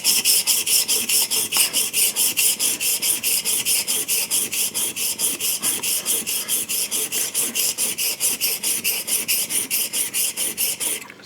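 A file rasps back and forth over the chip breaker of a wooden Hong Kong style hand plane, smoothing it by hand in a steady run of quick, even strokes, close up with no talk.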